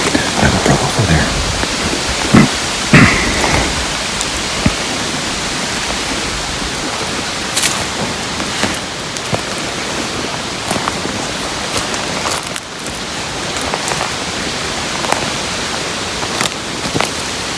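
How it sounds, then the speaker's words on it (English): A brook flowing through woods during a solo muzzleloader deer hunt, a steady close wash of rushing water with occasional rustles and knocks nearby. "I have a brook over there."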